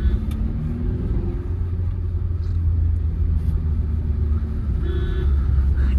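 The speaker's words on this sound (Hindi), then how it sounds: "सुरीली सी आवाज है इसके इंजन की" A Tata Safari Storme SUV engine rumbles steadily at idle, a low continuous drone heard up close with faint mechanical ticks.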